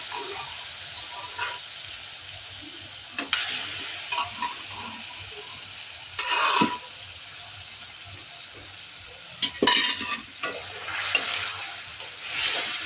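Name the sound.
winter vegetables stirred and fried in oil for shukto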